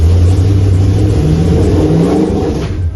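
NASCAR race car engine revving hard in first gear as the clutch is let out, a loud, close, continuous rough roar.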